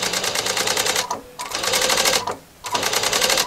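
A sewing machine stitches double piping for upholstery in fast rattling bursts, running close and loud with two brief pauses between runs.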